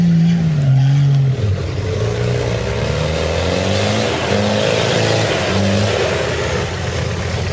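A 4x4 off-road vehicle on a charity trail ride, its engine revving loud and close with rising and falling pitch as it accelerates, a sustained throaty roar throughout.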